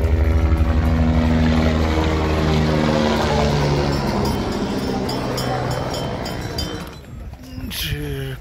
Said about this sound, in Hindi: और ये आता मेरे सर के ऊपर से हेलीकॉप्टर।